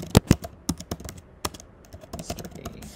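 Quick, uneven clicking of keys on a computer keyboard, a few heavier strokes at the start followed by lighter, rapid taps, close and alone with no talk.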